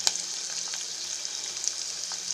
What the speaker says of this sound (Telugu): ఉల్లిపాయ ముక్కలు వేగుతూ ఉండగా ఇడ్లీని చిదిమి పెట్టుకోవాలి.